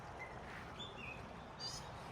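Small birds chirp and call several times in a backyard, the bright tweets faint and somewhat distant over a low steady outdoor hum.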